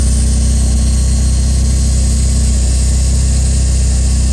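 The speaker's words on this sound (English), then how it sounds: "the noise that appears to be coming from the fuel pump" Fuel pump noise from a 1983 Porsche 924 under way, a steady hum buried in a loud, constant drone of engine and road noise that holds unchanged throughout, with no voices.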